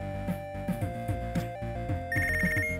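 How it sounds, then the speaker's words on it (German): A telephone rings in the video game Punch Club, its repeated electronic ring sounding over looping game music with a steady beat, with no talking. "Telefon!"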